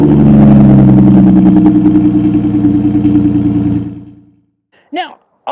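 An Aston Martin DB9 coupe's 6-litre V12 engine rumbles loud and close with a deep, throbbing tone for about four seconds, then cuts off, leaving a few brief chirps in the silence.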